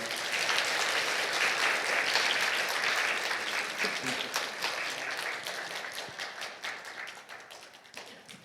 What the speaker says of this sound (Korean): 두 분께 박수 부탁드리겠습니다.